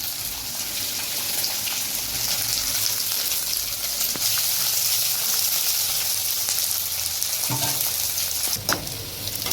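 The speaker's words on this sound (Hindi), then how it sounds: "अब ये मसाला थोड़ा देर तलना है" Onion, chili and masala fry in a pan with a loud, continuous sizzle and crackle, plus a few clinks of stirring near the end and no talk.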